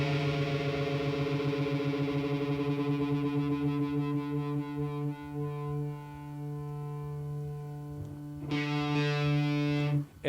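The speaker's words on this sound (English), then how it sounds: "We got to move it up very slowly and listen to the movement of the note as we bring it into pitch." A single guitar string rings steadily while its pitch is slowly raised toward tune, the sustained tone wavering as the peg turns, followed by a fresh pluck near the end.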